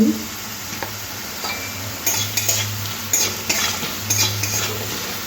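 Fried potatoes sizzling in a pan as turmeric is added and a spoon stirs them, a steady hiss broken by several sharp scrapes and clinks of the spoon against the pan.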